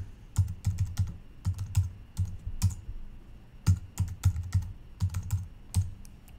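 Close, fairly loud typing of a password on a computer keyboard, quick bursts of clacking keystrokes with short pauses between groups, no voices.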